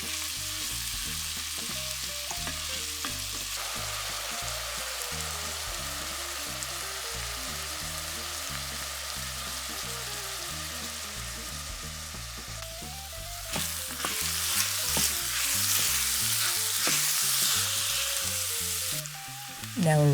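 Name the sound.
diced onions sautéing in olive oil in a Dutch oven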